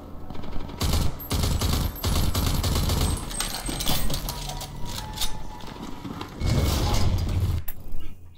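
Bursts of rapid machine-gun fire in the Rage 2 shooter, several loud, close volleys separated by short pauses and mechanical clatter.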